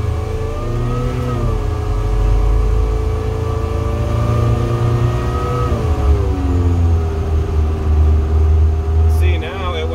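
Car fitted with a DIY supercharger, driving and accelerating with a loud, steady engine drone whose pitch rises and falls through throttle changes, a voice talking over it throughout.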